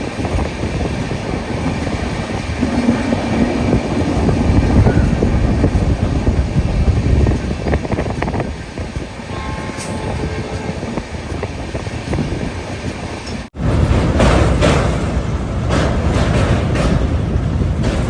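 Vivek Express long-distance passenger train on its Kanniyakumari to Dibrugarh run, giving a loud, steady rumble of rolling wheels and rushing wind that continues throughout, with a brief dropout near the end and no talking.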